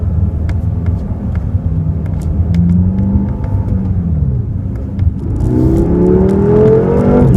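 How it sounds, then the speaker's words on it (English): A 2015 BMW M6 Gran Coupe with a twin-turbo V8 accelerates, its deep engine roar rising in pitch through the gears, loud and close from inside the car. "Love the sound from that V8 twin turbo engine. Very fast accelerations."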